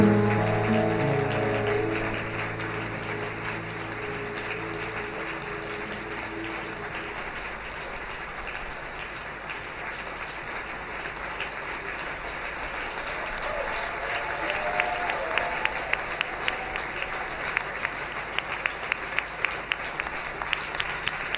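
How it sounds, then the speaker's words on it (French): A church congregation at a Sunday service claps in sustained applause. Voices or singing fade out at the start, and individual claps grow sharper and more distinct toward the end. "Clap for Jesus."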